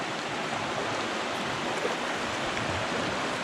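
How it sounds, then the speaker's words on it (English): A creek flows into the Schuylkill River, a steady broadband rush of moving water heard close and continuous, with no voices over it. "Just saw this creek coming in."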